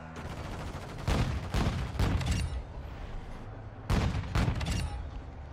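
Bursts of gunfire from vehicle-mounted weapons in Call of Duty Modern Warfare 2, with loud rapid volleys in three or four clusters over a rumbling game background and no talking.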